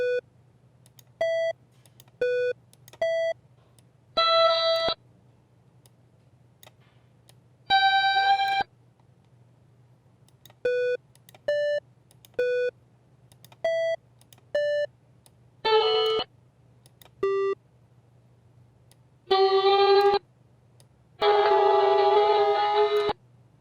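Short MIDI synth notes drawn with a pencil tool in Decoda music software, a series of brief sine-like beeps at varying pitches with a few longer buzzy synth bursts, separated by quiet gaps over a low hum.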